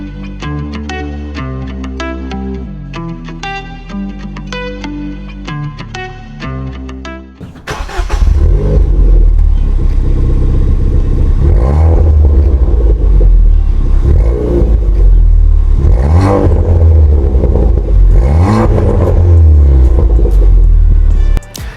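A musical intro gives way to a 1.6-liter Ford Fiesta ST engine with stock exhaust revving hard, rising and falling in loud repeated pulls with a deep throaty exhaust.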